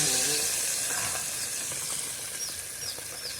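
Garlic and onion sauté in a hot pan with a steady, close sizzle and hiss throughout, with faint stirring scrapes and no talking.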